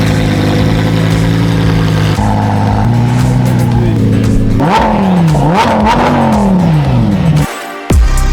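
An Audi RS3 engine revs hard in Dubai, loud and close, with repeated rising and falling surges that climb in pitch before cutting off abruptly near the end.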